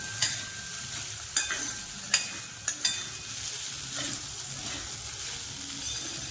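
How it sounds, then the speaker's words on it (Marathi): Sago pearls (sabudana) sauté in a pan with only salt and green chili, a steady close sizzle broken by several sharp scrapes and clinks of the spatula against the pan. "आपण फक्त साबुदाणा परतून घ्यायचा थोडासा।"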